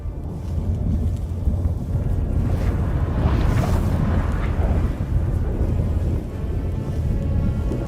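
Storm rumble in The Witcher 3: deep, continuous roaring low rumble with wind-like hiss, steady and loud throughout, swelling slightly midway, no voices.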